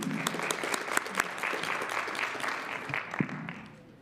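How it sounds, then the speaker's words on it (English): Audience applause fills a city council meeting chamber, a steady wash of many hands clapping with a few sharper claps standing out, fading toward the end. "So just want to give them a big round of applause."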